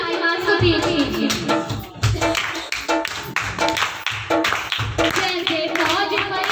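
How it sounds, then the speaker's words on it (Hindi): A church congregation at a Sunday prayer service claps rhythmically and steadily in unison, loud and close, with voices faintly mixed in. "सब अपनी तालियों की आवाज को तेज कीजिए।"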